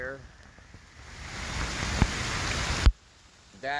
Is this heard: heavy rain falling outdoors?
yes